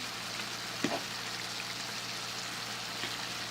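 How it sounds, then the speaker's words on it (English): A pot of water at a rolling boil on a stove, ready for spaghetti, gives a steady, dense hiss of bubbling throughout, with a faint clink near the start and no talk. "Now it's really boiling."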